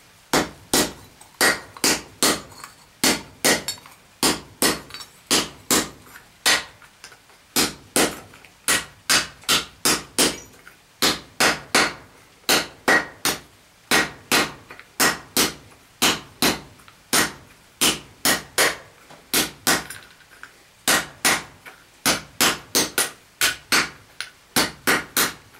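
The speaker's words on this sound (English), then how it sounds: "You take a good ball peen hammer and then you just start on it." Ball peen hammer striking metal edges to smooth them on 2.5 inch tubing, a long run of sharp ringing blows in quick uneven bursts, loud and close with no talk.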